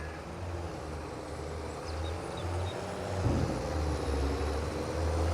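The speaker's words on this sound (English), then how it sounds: "God, that truck is so loud. So loud." Loud truck engine from the farming video game Farming Simulator 22, hauling grain; a steady low drone with a rhythmic pulsing rumble and a brief surge midway, continuous and close with no talking.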